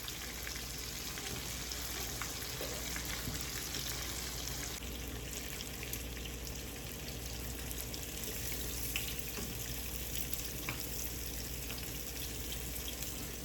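Soft, steady crackling sizzle of fish steak frying in oil in a pan, continuous and fairly faint throughout, with no talking over it.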